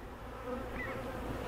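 Honey bees buzz steadily in a new bee yard apiary, a close, continuous hum with no talk.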